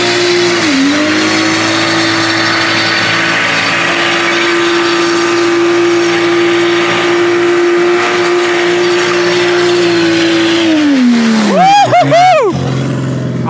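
A BMW M2 doing a burnout: the loud engine holds a steady high rev for about ten seconds, then drops and surges through a couple of sharp revs before cutting off.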